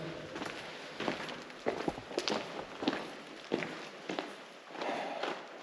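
Footsteps echo sharply off close rock walls in a remote slot canyon in Utah, each step followed by a reverberant tail, steady walking pace.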